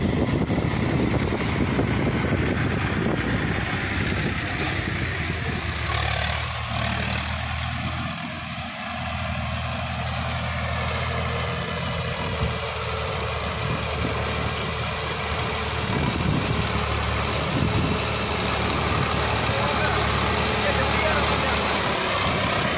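A Swaraj 960 tractor hauling a fully loaded trolley runs with a steady loud engine drone that dips briefly midway, and voices talk over it.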